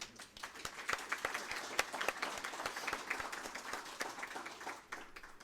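An audience at the 2019 Friends of Flight 93 Speaker Series applauds to welcome guests, many hands clapping in a steady, moderately distant patter that carries through without any speech.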